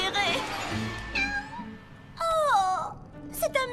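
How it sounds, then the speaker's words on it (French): A cartoon kitten in a Monster High Halloween cartoon gives a couple of plaintive, sliding meows, clear and close, following a stretch of voices and background sound. "c'est un mignon petit chaton"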